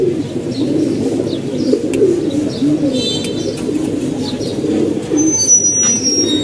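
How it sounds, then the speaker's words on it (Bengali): Pigeons coo steadily in a loft housing female birds, a continuous overlapping murmur of low throaty calls close by, with a few faint higher chirps near the end and no talking. "এখানে মাদি কবুতরগুলো আছে"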